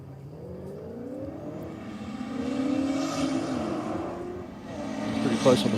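A later-model silver Holden Monaro drag car accelerates down a drag strip, its engine note rising and swelling from moderate to loud as it pulls away.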